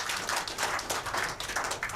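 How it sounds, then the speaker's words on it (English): An audience in a studio claps for a police officer on a family television programme, a quiet, fairly even patter of hands sustained for a couple of seconds. "Gallant officer, make a clap for her."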